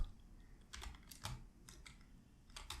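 Computer keyboard keys clatter in short irregular bursts of clicks while code is typed out for an SQL interview problem, fairly close and alone with no voices.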